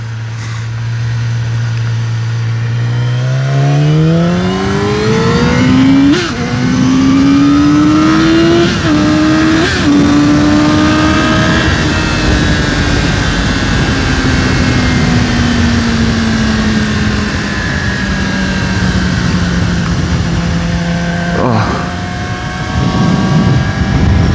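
A 2019 Yamaha R6 sport motorcycle revs up from idle and pulls away on a ride, its loud, high-pitched engine climbing through the gears in steady rising and falling sweeps with wind rush throughout, no voices.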